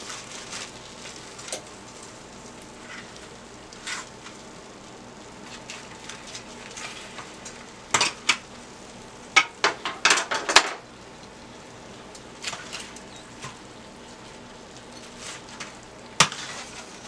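Norwegian mackerel frying in oil in a pan, a soft steady sizzle throughout, broken by several sharp clanks and scrapes of a utensil against the pan.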